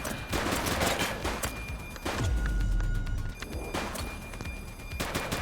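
Rapid bursts of gunfire from the police video game The Precinct, with loud fusillades and machine-gun volleys repeating across the clip, punctuated by a deep boom, with no talking.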